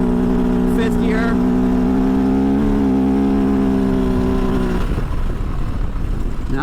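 A 2023 Kove FSE 450R rally motorcycle engine on sand in fifth gear, a loud close droning note that climbs steadily, then drops abruptly into rough wind-buffeted rumble.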